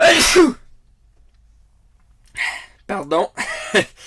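One sharp sneeze bursts out close to the microphone, followed by a pause of near silence, then someone speaks briefly.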